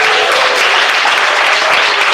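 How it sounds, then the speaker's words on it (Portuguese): A church congregation claps together in a loud, dense, continuous burst of applause that stays steady throughout, close and full with no speech over it. "E bate palmas."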